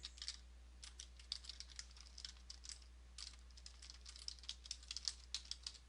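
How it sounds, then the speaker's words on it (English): Typing on a computer keyboard, a steady run of light close key clicks in bursts with a short pause near the middle, with no talk. "I'm going to type in"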